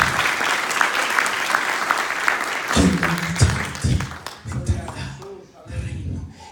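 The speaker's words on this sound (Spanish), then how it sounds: "Vamos, denle un fuerte aplauso al Señor." A church congregation applauds during a Spanish-language worship service, giving a dense, continuous wash of clapping. Voices rise under it and continue as the clapping fades toward the end.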